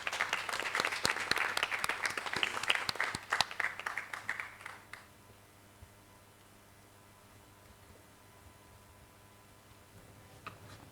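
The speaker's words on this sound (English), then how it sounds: "Can we welcome her, please, with a hand clap?" An audience at an annual scientific meeting claps to welcome a speaker, with a lively round of hand claps lasting about five seconds before dying away into a quiet room hum, with one last stray sound near the end.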